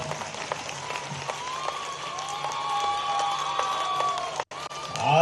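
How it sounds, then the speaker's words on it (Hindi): Applause from the audience at a mass wedding ceremony in Kshipra, Indore district, a broad continuous wash of many hands clapping, steady and fairly loud throughout with a brief dropout near the end. "अभिनंदन का आप जोर से ताली बजाओ।"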